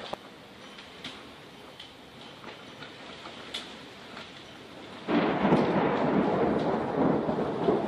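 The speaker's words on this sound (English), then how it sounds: "once the lightning hits, it takes two seconds for us to hear the sound" Distant thunder rumbles under steady rain in Tucson, Arizona, then swells into a louder, sustained roll near the end.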